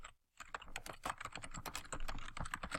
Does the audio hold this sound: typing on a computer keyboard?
yes